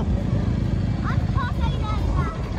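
Motorcycle riding along a mountain road near Kathmandu toward Chandragiri, a steady close engine drone with wind rush, and faint voices briefly heard over it.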